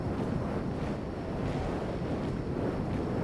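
Wind sweeping across snowy highlands in ARK: Survival Ascended, a constant rushing roar with slow gusty swells, loud and full, with no voices.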